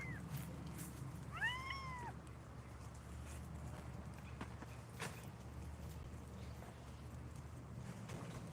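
A kitten gives a single short, high meow early on, over a steady low hum of background noise, with faint knocks later and no other calls.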